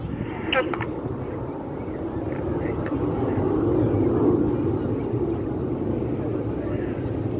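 Red Arrows display jets flying in formation, a broad distant roar that swells and fades, heard under steady commentary from a voice.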